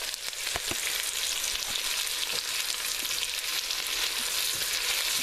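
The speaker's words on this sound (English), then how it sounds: "Onions are starting to go crisp as well, and that's what I want." Onions crisp up in a pan with a continuous, close bright sizzle and crackle, broken by a few soft knocks and scrapes of a utensil.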